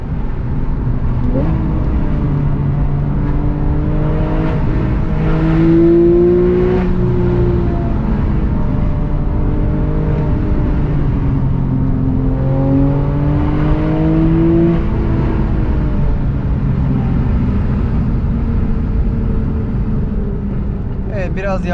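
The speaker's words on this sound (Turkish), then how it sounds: "Mesela bir Wiesmann geçiyor yanımızdan." A Wiesmann sports car passes by on a road in France, its steady engine drone rising and falling for about twenty seconds beneath continuous conversation from people nearby.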